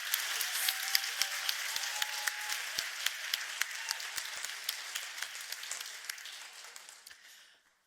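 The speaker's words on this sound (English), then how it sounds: "Give her again a big applause." Conference audience applauds steadily for about seven seconds, a dense wash of clapping with sharp individual claps standing out, then tapering off to silence at the end.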